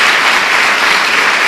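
Loud, close applause from a church congregation clapping for Jesus, an even, continuous rush of many hands with no talking.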